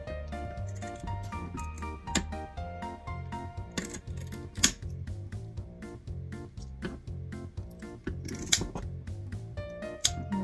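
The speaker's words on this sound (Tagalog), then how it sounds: "Kaya ganito lang ako guntingan ko muna siya bago kaluskisan." Scissors snip repeatedly at the spiny fins of a fish before scaling, a close, quiet series of sharp irregular clicks and cuts over a soft hum of background music.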